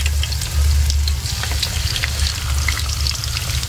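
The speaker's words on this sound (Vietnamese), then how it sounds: "để cá vô chiên." Fish frying in oil in a pan over a wood fire, a dense, steady sizzle with crackling and bubbling heard up close and unbroken, with no talk over it.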